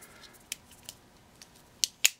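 Adjustable pliers handled and repositioned, giving a few sparse metallic clicks and snaps, two sharper ones near the end, at close range in a quiet room with no talking.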